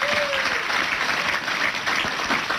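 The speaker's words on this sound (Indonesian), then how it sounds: "Tepuk tangan untuk beliau." An audience breaks into sustained applause at a religious gathering, a dense, even clatter of many hands clapping that continues steadily throughout, with a faint voice heard at the very start.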